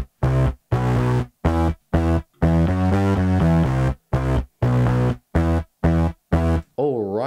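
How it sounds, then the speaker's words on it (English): A bass line with full group processing in a pop-rock mix, thick distorted notes pulsing in short, evenly spaced stabs with a sustained run in the middle, loud and up front, ending on a brief wobbling tail. "The bass sounds like this with all the group processing."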